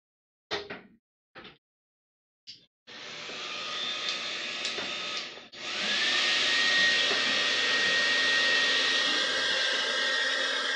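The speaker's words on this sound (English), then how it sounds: "it does a different thing when you blow it with a hair dryer" A hair dryer blows steadily at close range, a loud continuous whooshing roar with a brief dip partway, after a few short bursts at the start.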